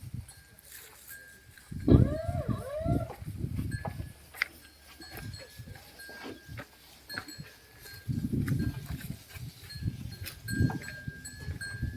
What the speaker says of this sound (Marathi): हा आमचा एक गाई म्हशींचा फार्म आहे.